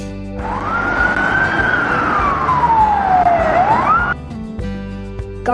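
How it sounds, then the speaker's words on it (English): An ambulance siren wails loud and close in one continuous rising and falling sweep for about four seconds, then cuts off abruptly, with no voices around it. "ambulance,"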